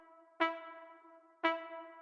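Two short, bright amapiano brass stabs, about a second apart, each followed by a lingering reverberant tail; instrumental only.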